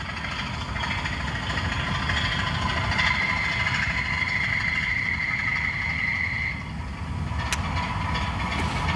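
A Class 25 diesel locomotive plays as a digitised sound recording, giving a steady engine drone throughout with a brief sharp click near the end.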